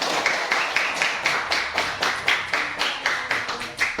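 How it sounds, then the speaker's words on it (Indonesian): A fifth-grade class claps for classmates who got every quiz answer right. The claps come in a quick, even rhythm, loud and close, with regular beats that sound like children clapping together in time. "Ya, beri tepuk tangan."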